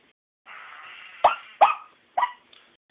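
Homemade wireless electronic predator caller playing an MP3 animal call from a small RCA MP3 player, a short raspy tone followed by several sharp, distressed yelps in quick succession, heard up close with no talk.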